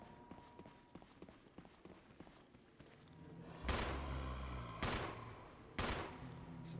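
Gunfire in a Resident Evil game starts as a run of light rapid taps with footsteps, then heavy shots boom out at intervals over a constant background.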